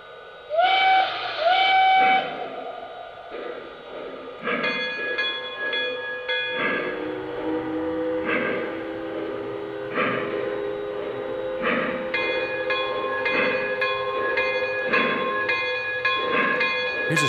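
An O gauge three-rail model train rumbles along while steam-style whistles sound repeatedly in short and long blasts, fairly close and clear.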